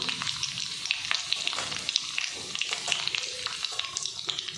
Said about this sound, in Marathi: आता लसूणही चांगला तळू द्यायचा आहे